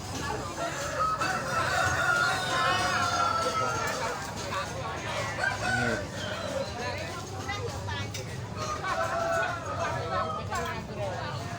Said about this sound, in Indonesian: Oh, ini masih ayam